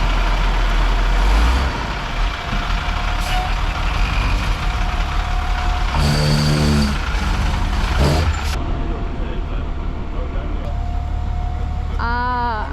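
A truck labours to haul a shipping container up a slippery slope at a Costa Rica building site, its engine droning and straining steadily, with a reversing beeper and air-brake hiss breaking in midway and people talking nearby.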